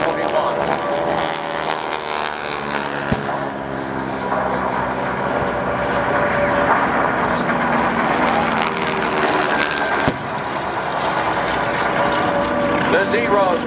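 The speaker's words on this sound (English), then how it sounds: "The Zeros continuing to make their strafing runs." Warbird aircraft, including replica Zeros, flying low in a Tora Tora Tora Pearl Harbor reenactment at an air show, a loud sustained propeller-engine drone that rises and falls, with an announcer speaking over it.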